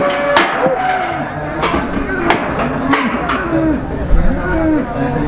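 Javanese cattle moo repeatedly at a livestock weighing scale during a sacrificial-animal weigh-in, several drawn-out low calls close by amid steady crowd chatter and clanks from the pen.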